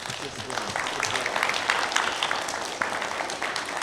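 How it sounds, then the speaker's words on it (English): Participants and onlookers at an aikido class at Kyoto International School clap at the end of an exercise, a close, busy patter of hands that continues throughout with voices mixed in. "Let's clap for our participants."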